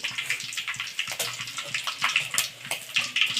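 Splashing and swishing of water as cluster beans are rinsed in a bowl, close up, with irregular sloshes and a low humming tone underneath.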